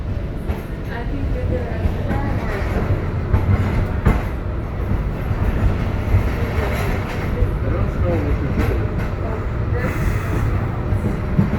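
An MBTA Green Line train rides along with a steady, loud broadband rumble and rattle of the car, faint voices around it and a brief hiss near the end.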